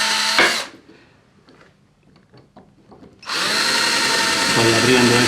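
An electric drill boring a hole in a jewellery piece, with a short loud whine, a pause with faint handling clicks, then a long sustained high-pitched spin.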